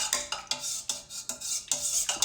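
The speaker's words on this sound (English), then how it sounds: "mix this a little bit," Rustic bread dough being mixed with warm water, rhythmic wet scraping strokes about every half second, close and fairly loud, with no voices.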